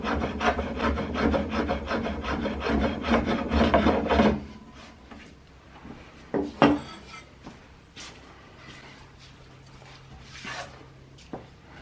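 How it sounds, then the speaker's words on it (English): A hand plane refines a wooden boat stem in a run of rapid, rhythmic rasping strokes up close, followed after a pause by a few scattered knocks and single scrapes against the wood. "And refined with a hand plane."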